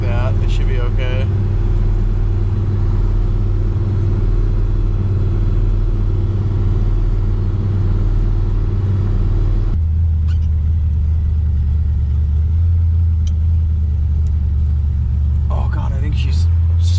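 A 1966 Chevy Nova with a 327 V8 drives on the road while stuck in second gear, a loud, steady low engine rumble that drops in pitch partway through, with a voice talking over it.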